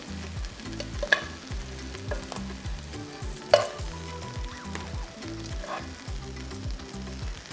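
Chicken pieces sizzle in a hot pan during home meal prep, a steady frying hiss with rhythmic stirring scrapes and a couple of sharp utensil clinks.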